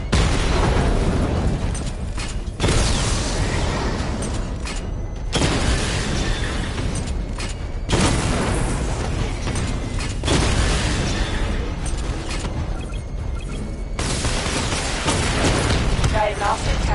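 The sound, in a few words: Batmobile barrage explosions in a Batman video game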